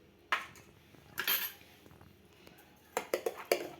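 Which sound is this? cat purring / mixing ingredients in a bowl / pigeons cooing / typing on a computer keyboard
mixing ingredients in a bowl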